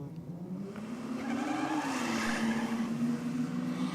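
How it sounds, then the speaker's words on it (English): A Ford Falcon XR8 launching off the line on radial tyres with wheel spin at a race track, engine note rising and wavering steadily under a broad hiss of spinning tyres. "Oh, those radials just struggling off the line. You could hear it through the track mics."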